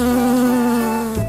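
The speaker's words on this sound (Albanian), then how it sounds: "Bleta" A bee buzzes steadily and close up, a single sustained drone that holds for about a second before trailing off, with nothing else heard.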